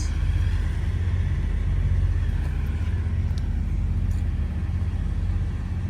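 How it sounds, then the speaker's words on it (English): A 1972 Chevrolet Nova with its numbers-matching 307 V8 runs steadily and loudly, a deep continuous rumbling idle close by with no breaks and no talk. "we're going to fire it up, show it drive, and get in and drive it"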